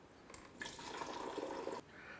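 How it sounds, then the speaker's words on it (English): Water pours steadily into the reservoir of a Hamilton Beach FlexBrew coffee maker, a close splashing and trickling stream lasting about a second and a half before cutting off, with no talk. "All right, all the water's in there."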